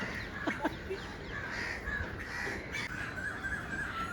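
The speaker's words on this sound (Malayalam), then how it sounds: "ഓ കിളികളുടെ ശബ്ദം കൊണ്ട് വയ്യ" Crows caw repeatedly over a busy background of other bird calls, including koels, on an elevated walkway in Mumbai, with a steady wash of ambient noise throughout.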